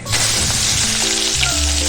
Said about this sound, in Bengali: কড়াইয়ে সর্ষের তেল দিয়ে হালকা করে মাছগুলো ভেজে নেব